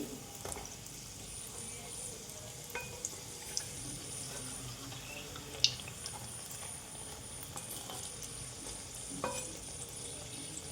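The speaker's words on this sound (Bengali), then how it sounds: "একটু কালার করে আমি ভেজে নিব আমি এগুলো উল্টিয়ে দিই" Savory snack pieces fry in hot oil in a pan and are turned over, producing a steady, quiet sizzle. Occasional small clicks and scrapes from the flipping cut through the bubbling, and no one speaks.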